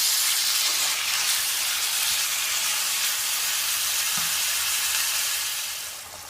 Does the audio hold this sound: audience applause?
no